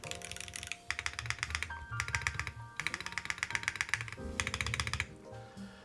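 Keys clatter rapidly on a newly built M9N mechanical keyboard, close and crisp, in quick bursts broken by short pauses and no talk.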